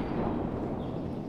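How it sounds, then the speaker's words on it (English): A large explosion in a Battlefield video game rumbles as a dense, low roar that fills the short stretch at steady loudness, with no voices. "Big explosion."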